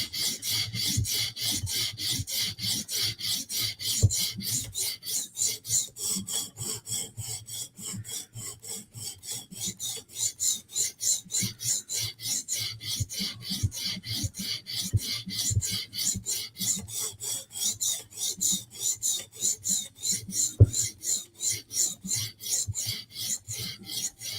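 A blade being sharpened to raise a burr, a steady rhythmic rasping of rapid back-and-forth strokes continuing alone for the whole stretch, close and even.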